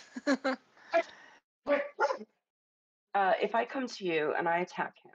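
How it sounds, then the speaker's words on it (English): Indoors, dogs let out a few yips and short barks in small clusters, partly overlapping a man's nearby speech. "sorry about the dogs."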